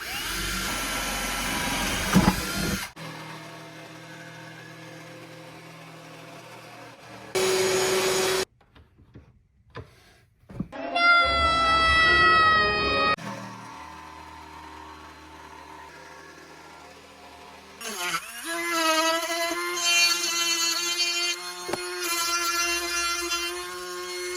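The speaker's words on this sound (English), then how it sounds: "That Dremel is actually super powerful." A Dremel rotary tool runs in bursts during a one-day tip jar build, its high whine loud and close, starting and stopping several times with pitch shifts as it spins up and cuts.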